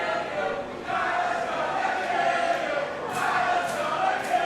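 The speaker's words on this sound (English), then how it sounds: "And you can hear the crowd" A wrestling arena crowd cheers and roars before a women's championship title match, a broad, sustained wash of noise with sharper swells near the end, while a commentator talks over it.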